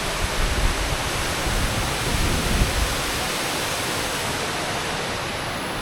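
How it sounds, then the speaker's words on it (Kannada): Kailasam waterfall in the Sholayar forest range rushes in a dense, continuous broadband roar, loud and steady throughout with no talking. "ನಮ್ಮ ಶೋಲಾರ್ ಫಾರೆಸ್ಟ್ ರೇಂಜಲ್ಲಿ ಬರುವ ಕೈಲಾಸಂ ವಾಟರ್ ಫಾಲ್ಸ್"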